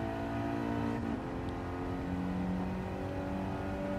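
Engine note of a 1990 Nissan Silvia K's Selection S13 in Gran Turismo 7, a steady droning hum with held tones that shift in pitch, heard alone at moderate level.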